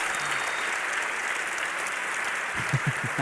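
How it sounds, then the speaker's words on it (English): A large crowd at the DreamHack League of Legends semi-final claps and cheers steadily, a dense wash of applause that fills the whole stretch, with a few louder rhythmic claps near the end. "I want you to put your hands in the air, clap, and cheer in for the semi-final of the Dreamhack League of Legends Championships!"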